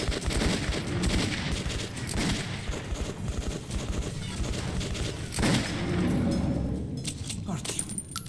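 Gunfire in Metro 2033 amid hectic combat: repeated sharp shots and bursts over a rumbling background, with a louder cluster midway, while someone talks over the action.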